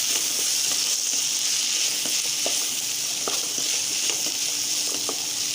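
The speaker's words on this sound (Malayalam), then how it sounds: "എന്നിട്ട് ഇതെല്ലാം കൂടെ നല്ലതുപോലെ ഒന്ന് ഇളക്കി കൊടുക്കാം." Whole spices and garam masala frying in a pan while being stirred, a constant hissing sizzle with occasional light clicks of the spoon, close up and without any talk.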